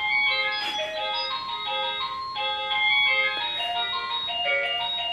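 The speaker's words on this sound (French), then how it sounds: "C'est ma sonnette." An electronic doorbell chime at home plays a bright, multi-note melodic tune, a string of clear tones repeating for several seconds over a steady background hiss, with no talking.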